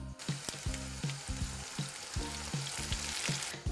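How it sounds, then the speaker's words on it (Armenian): Onion frying in a pan, a steady loud sizzle running throughout with rhythmic clatter of stirring strokes, close and with no speech. "Մինչ սոխը կտապակվի եւ ոսկեգույն գույնը կստանա"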